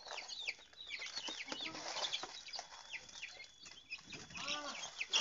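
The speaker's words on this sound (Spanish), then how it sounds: "También son pollitos de pelea" Small fighting chicks and farm-raised chicks cluck and peep continuously at close range in a farmyard, with rapid overlapping chirps throughout and no talk.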